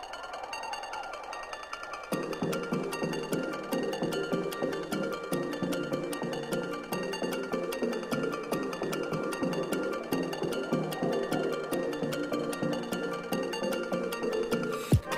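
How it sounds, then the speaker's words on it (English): An 8-bit style synth figure opens the song, starting as a soft tone and then turning into a steady, busy pattern of bright chiptune pulses over a rhythmic beat for the rest of the clip. "right off the bat, you kind of hear this kind of 8-bit sound, which is really cool"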